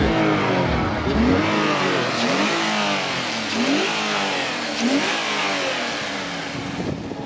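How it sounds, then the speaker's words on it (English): A Porsche sports car engine revs repeatedly in sharp bursts at a car meet, rising and falling in pitch, loud and close with no talking. "You guys hear that, man? We got the good Porsche right there."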